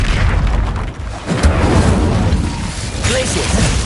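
The Incendio fire spell in Hogwarts Legacy bursts with loud booming, rumbling blasts, dense and continuous with a sharp pop partway through, and a voice briefly heard in the mix.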